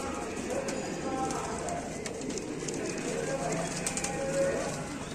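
Domestic pigeons coo softly amid constant background noise and faint flutters, with someone talking over them throughout.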